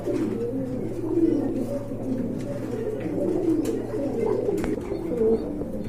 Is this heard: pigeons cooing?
yes